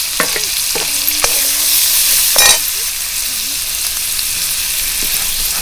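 Ground paste and roasted chili powder frying in hot oil, a loud steady sizzle with scraping stirring strokes and a louder burst of spluttering near the middle; no talk over it.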